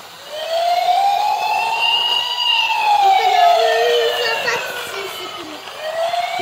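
A toy fire truck's electronic wailing siren rises and falls steadily, close and loud, with faint background voices underneath.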